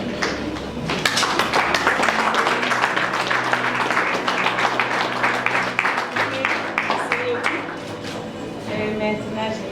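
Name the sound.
applause for the couple's parents at a civil wedding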